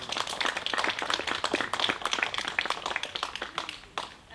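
Small gathering applauding the creator of a reflective space installation at its dedication, a few seconds of steady, fairly close hand clapping that thins out near the end.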